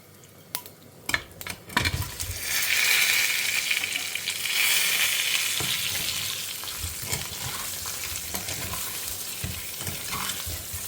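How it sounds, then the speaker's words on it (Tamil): Mustard seeds, urad dal and chana dal frying in hot oil for a home-style tempering, giving a steady, close sizzle that swells after the seeds go in and keeps crackling, with a few sharp clinks and pops. "அதுக்கப்புறமா இதுக்கு வந்து தாளிக்கிறதுக்கு பேசிக்காக கடுகு, உளுத்தம்பருப்பு, கடலைப்பருப்பு ஆட் பண்ணிக்கலாம்."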